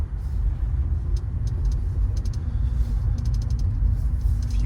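A 2008 Acura TL 3.2 drives out of a parking structure, a low, steady engine and road rumble heard from inside the cabin, with faint intermittent ticking rattles over it and no talk.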